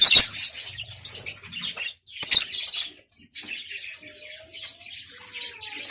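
African lovebirds and their chicks chirp in quick, busy bursts of high, squeaky calls that come and go with brief gaps, close by and fairly loud, with a few thin, drawn-out whistles near the end.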